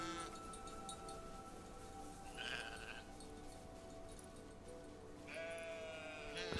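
Sheep bleating in the video game Farewell North as they are herded uphill, with two distinct bleats over a constant low ambient bed.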